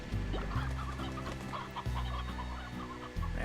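Chickens cluck in the farming video game Slime Rancher, a close, busy run of short repeated clucks with no talk over them.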